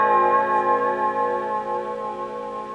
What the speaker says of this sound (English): got a nice chorus effect there, I hadn't noticed before